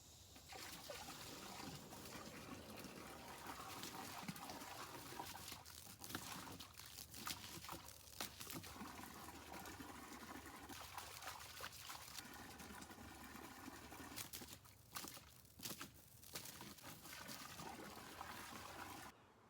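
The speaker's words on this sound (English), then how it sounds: "So the first thing I need to do is fill up a container with some water." Water pours steadily into a container that stands in for a river during a gold panning demonstration, making a continuous close splashing trickle that runs the whole time with only small dips.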